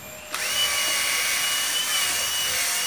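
A high-pitched power tool whirs into action abruptly and runs steadily, a close, continuous grinding whine with no talking, sanding the master cylinder hole of a motorcycle's front disc brake.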